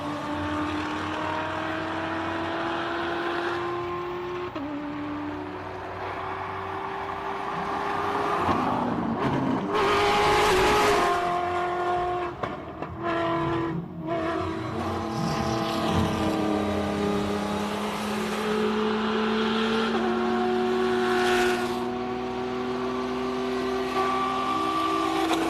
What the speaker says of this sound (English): And here they are on the track, the Rally Raid cars.